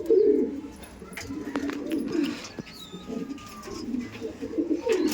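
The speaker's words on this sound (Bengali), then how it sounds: "দেখছেন কত সুন্দর লাগছে পায়রা" Pigeons of the Kaldom and Laldom breeds cooing in a loft at Barasat, several overlapping low throaty coos rising and falling close by, with faint chirps in the background.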